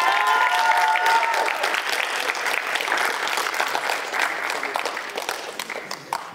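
Applause from an audience congratulating students committing to college sports, sustained dense clapping that slowly fades, with a faint tone early on.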